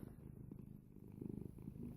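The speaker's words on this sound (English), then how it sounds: "if you hear purring or meowing, it is my kitty, Luna." A cat purrs close up, a soft rhythmic rumbling that pulses steadily throughout, quiet and intimate with nothing else around it.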